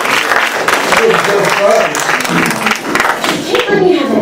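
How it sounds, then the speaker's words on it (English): Loud, close applause from a magic show audience, many hands clapping in a dense patter throughout, while a performer keeps talking over the noise. "You can return to see a round of applause, please, for Franz."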